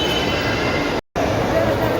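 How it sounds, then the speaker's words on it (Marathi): A steady rumbling rattle of a small toy train running nearby in Elpro Mall, Chinchwad, Pune, broken by a brief dropout, with a busy indoor crowd murmur underneath. "बघा ही टॉय ट्रेन चालते आहे"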